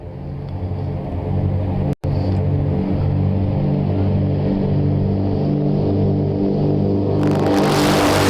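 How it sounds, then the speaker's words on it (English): A small airplane's engine revs at a runway fly-in before takeoff, a loud steady drone with a pulsing beat. It cuts out for an instant, then resumes, and a harsher broadband roar swells near the end. "You can hear that motor revving up."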